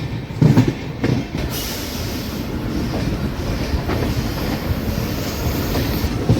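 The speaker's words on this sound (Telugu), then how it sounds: "మనకి పక్కన చూసుకుంటే దాని పక్కన ప్యారలల్గా ఇంకొక మెమో ట్రైన్ అయితే వెళ్తుంది" A Chennai local MEMU train runs on a parallel track beside a moving express, its steady rolling rumble and wheel clatter close and loud, with a few heavier clunks near the start and no talk.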